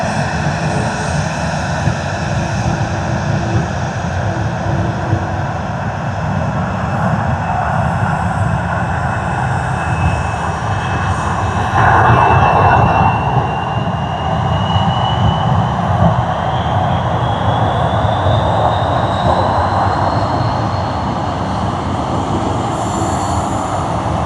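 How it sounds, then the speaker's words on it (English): A Jetstar Boeing 787-8 Dreamliner arriving at Sydney Airport, its jet engines a loud, continuous roar with a rising whine swelling midway, no voices heard. "Arriving from Phuket. Jetstar's Boeing 787-8,"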